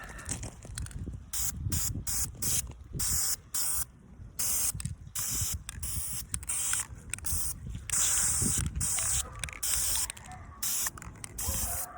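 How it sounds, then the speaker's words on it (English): Repeated bursts of hissing spray from a paint can onto a car headliner part, short and long blasts with brief pauses between, close up, with faint clattering underneath. "I've already done my initial spritz spray, but now it's time to hit it with the paint"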